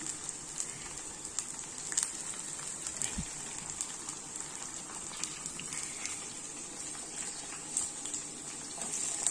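Eggplant pieces stuffed with masala go into a pan of frying onions. A steady, moderate sizzle carries a scatter of light clicks and taps. One low thump stands out near the start, and no one speaks.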